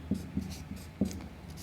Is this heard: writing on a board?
yes